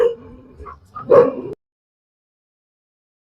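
A dog yips and barks a few times close by in a village, then silence.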